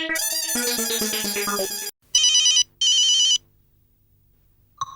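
A telephone rings loudly up close while a call is being placed: a dense electronic melody first, then two short bursts of repeated ringing tones with silence between them.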